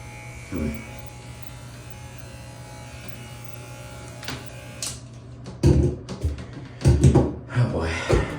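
An electric razor buzzes steadily near the head while shaving upward along a hairline, a low hum with brief louder bursts as it bites into the hair, growing busier toward the end.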